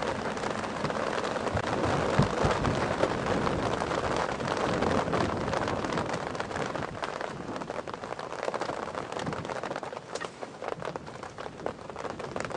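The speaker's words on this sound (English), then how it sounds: "I've got too much noise from the rain." Heavy rain pours steadily during a safari drive at Djuma and Arathusa, a dense, continuous hiss of drops mixed with wind buffeting the microphone, loud throughout with no pauses.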